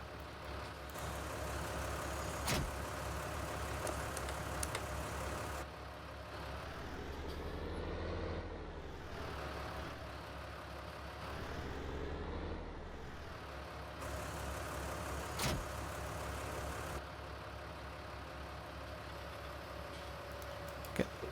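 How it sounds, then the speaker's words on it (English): A vehicle engine left idling in Farming Simulator 19, a steady low rumble running continuously throughout with mechanical hum, no talk over it. "I'll turn the engine off, I left it running"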